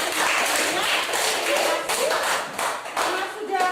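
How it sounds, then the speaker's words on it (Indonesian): A classroom group applauds student teams during an Indonesian teaching-practice lesson, a dense, steady patter of many hands clapping that runs through the whole stretch, with voices mixed in. "baik kelompok 1 maupun 2 dan kelompok 3 sendiri beri aplaus"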